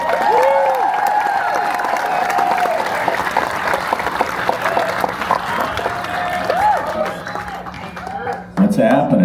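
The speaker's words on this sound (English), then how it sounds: "please give a huge round of applause for our next speaker" Applause and cheering from a crowd at a celebration-of-life gathering as the next speaker is introduced, steady clapping with whistles and shouts, then a voice and a sharp change near the end.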